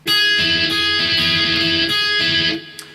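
Several guitar notes struck in succession and left to ring together into a sustained, shimmering chord, close and fairly loud before cutting off.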